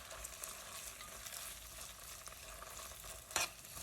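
Onion and tomatoes fry in a pot with a soft, steady sizzle that stays faint throughout, broken near the end by one sharp scrape of a utensil.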